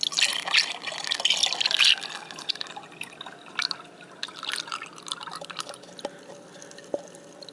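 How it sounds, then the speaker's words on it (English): Welch's grape juice pours into a homemade wine jug, a close splashing trickle that is loudest at first and then thins to scattered drips and small splashes. "And now we're going to put in our juice."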